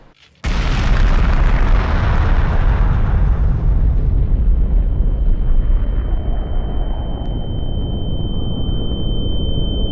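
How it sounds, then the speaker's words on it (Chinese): Two giant animated energy balls collide in a huge explosion, a sudden loud blast that rolls into a long, dense, rumbling roar, with a thin high tone ringing through the later part. "随着2个能量球越来越近，最终产生碰撞"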